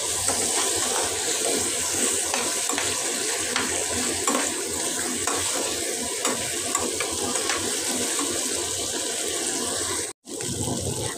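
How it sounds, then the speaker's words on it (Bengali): Ginger-garlic spice paste is fried and stirred in a pan for a chicken pakora curry, a dense continuous sizzle with scraping stirs, dropping out for a moment near the end. "তো এরপরে আমি মশলাটা খুব ভালোভাবে কষে নেব।"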